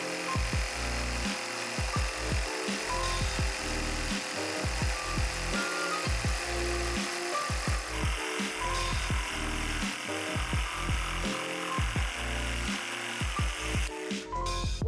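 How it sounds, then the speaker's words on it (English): A jigsaw cuts through construction lumber for a DIY bench, its steady buzzing motor running almost continuously for the whole stretch with a rapid pulsing rhythm and a slight shift in tone partway through. "I'm going to use this jigsaw to cut out my shape"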